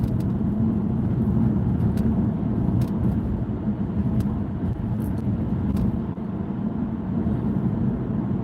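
A car driving through Federal Way at midnight gives a steady low road rumble and engine hum that carries on without a break, with faint ticking and clicks inside the cabin.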